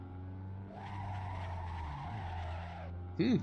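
A Ferrari 458 in the Assetto Corsa racing game skids under late braking, its tires squealing steadily for about two seconds over the engine drone before a brief sharp burst near the end.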